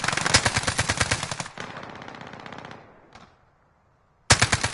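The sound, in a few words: gunfire in a PS4 shooter video game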